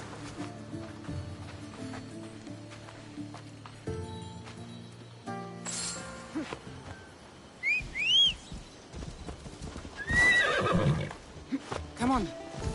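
A horse whinnies and neighs during horseback riding in Assassin's Creed Odyssey on a Greek island, with birds chirping and whistling around it and steady ambient game sound underneath.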